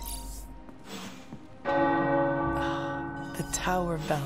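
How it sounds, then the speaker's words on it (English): Tower bells in the video game Marvel's Midnight Suns ring out with sustained, resonant tones after a few quieter sounds, the chimes layering and lingering, with brief voice-like bits near the end. "Tower bells are ringing."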